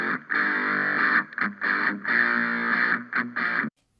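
A distorted electric guitar, panned left with a full-level aux send panned right, plays a series of sustained, choppy chords in short bursts with brief gaps, ending abruptly in silence.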